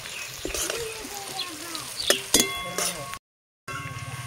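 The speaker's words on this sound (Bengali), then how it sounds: "নাড়াচাড়া করে পেঁয়াজ সহ মশলাগুলো ভেজে নিতে হবে।" Chopped onion, green chili, ginger and spices frying in a pan for an egg and vegetable khod, a soft sizzle with clinks and scrapes of a stirring spoon against metal, briefly cut to silence near the end.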